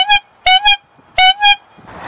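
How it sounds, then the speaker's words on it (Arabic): A car horn honks in sharp, loud bursts: a single toot, then a quick double, a pause, and another double toot. "هذه هرن"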